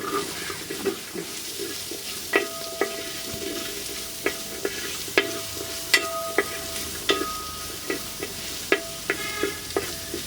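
Half a kilo of onions frying for a chicken curry, a steady sizzle with frequent sharp clinks and scrapes of stirring against the pan, close up and with no talking.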